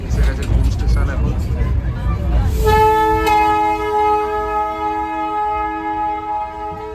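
The Darjeeling toy train pulls into Ghum station, its close, low rumbling giving way midway to a loud, sustained horn blast that holds steady to the end.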